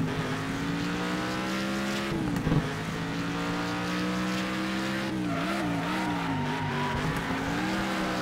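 Race car engine in a racing video game on a figure-8 track, a steady loud drone with shifting pitch, dipping around a brief skid near two seconds and wavering again as it revs through later turns.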